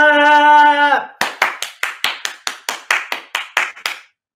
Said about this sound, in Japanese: 皆さんはいパチパチパチパチパチパチ